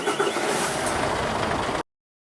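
Recorded truck engine sound effect from an RC Actros truck's light controller, a steady rumbling idle running for just under two seconds and cutting off abruptly.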